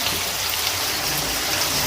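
Water being poured or filling a large pot, six litres for boiling one and a half kilos of rice for biryani, a steady close rushing splash with no pauses.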